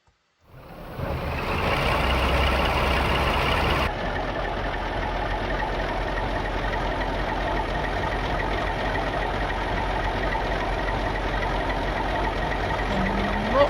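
A Class 42 Warship diesel-hydraulic locomotive engine in Train Simulator cranks and starts after a moment of quiet, then settles into a loud, steady idling rumble with a faint high whine.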